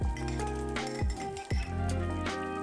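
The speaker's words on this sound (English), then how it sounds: "I'm just breaking up the clumps, and then I'm going to mix it well to reheat with the eggs." A utensil breaks up clumps of cold leftover cooked rice in a pan, giving a few distinct clinks and scrapes against the pan, near and moderately loud over a low hum.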